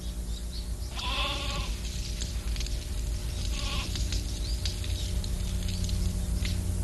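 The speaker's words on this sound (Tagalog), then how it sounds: "Bet, kailangan pa natin na isa pang kambing." A cartoon goat bleats twice, two short wavering cries about three seconds apart, standing out clearly over a quiet background of music and ambience.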